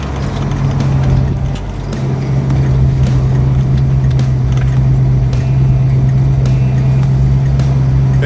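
A 1966 Ford Mustang with a clattering 289 V8 and an old three-speed transmission drives along at a steady pace. The engine drones loudly and continuously, with a strong low hum throughout.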